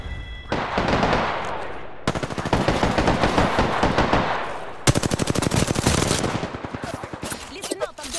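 Sustained bursts of rapid automatic gunfire fill a shooter video game, loud and close, broken by brief gaps between rattling volleys, with faint radio-style voices underneath.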